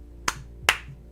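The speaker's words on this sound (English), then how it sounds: "you would think that clapping would work then" Two sharp, close hand claps ring out about half a second apart to trigger a clap-on toy, each a crisp slap followed by a short fade in a quiet room.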